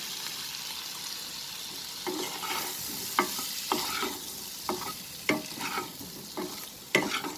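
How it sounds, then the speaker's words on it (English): Potatoes with lemon juice fry in a pan over a medium flame with a steady sizzle, punctuated by repeated scraping stirs and clinks from a spatula up close. "And now I will fry this over a medium flame for near about 5 to 7 minutes."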